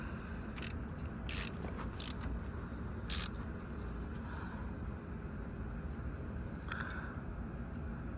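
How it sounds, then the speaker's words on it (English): A ratchet snugs up a brake line bolt, giving several quick, sharp clicking bursts early on, then fainter clicks over a low background hum. "And then we will snug it up with the ratchet."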